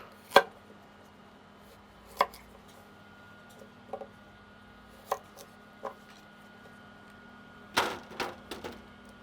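Knife rough chopping celery and carrots on a cutting board for a smoked French dip broth: about a dozen sharp, close thunks spaced irregularly, some in quick pairs or clusters, over a quiet room hum with no talking.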